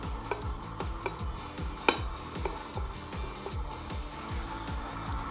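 A stand mixer runs at minimum speed while flour is worked into dough for an apricot-pistachio tart, giving a steady rhythmic churning with regular thumps about every half second and an occasional sharp clink, quiet and close.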